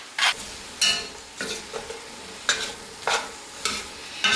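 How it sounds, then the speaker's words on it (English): A spoon stirs black-eyed peas in a pot, making rhythmic scraping sweeps roughly every half second over a soft simmering sizzle, close and fairly loud, with no talking. "Give that a good mix."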